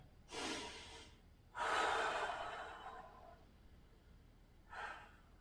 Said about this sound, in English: Breathing deeply on the exhale, twist a little bit more.